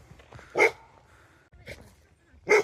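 Dog barking on a moorland walk near Stalybridge: three sharp barks spaced about a second apart, fairly close and loud, over quiet wind and low background rumble.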